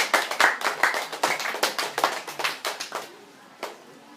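Audience applause at a high school debate, a crowd clapping in quick overlapping bursts for about three seconds, then fading to a lone late clap.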